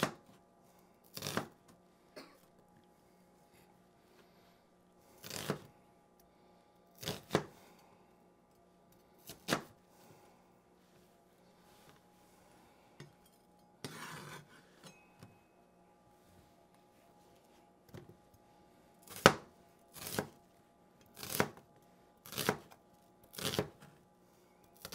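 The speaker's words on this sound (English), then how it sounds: "Peeled my onion, gonna rough chop it." A knife roughly chops a peeled onion on a cutting board, in quiet bursts of rapid close knocks separated by pauses, with the longest flurry of chops near the end.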